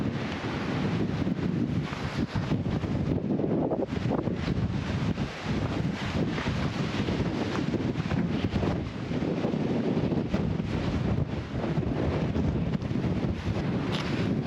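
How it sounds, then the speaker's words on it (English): Strong wind buffets the microphone, producing a constant loud, rumbling roar that fills the whole stretch. "it's really windy still"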